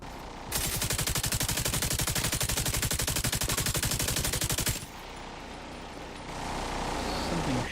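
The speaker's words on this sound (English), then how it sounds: "Shooting the crap out of you. And shooting the crap out of me." Video game gunfire: a loud, rapid automatic burst rattles steadily for about four seconds, then gives way to quieter combat noise and rumbling effects.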